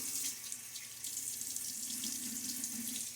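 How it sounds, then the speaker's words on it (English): Steady close hiss of a running tap rinsing a safety razor at a sink, continuous and even throughout with no talking. "A little rinse now."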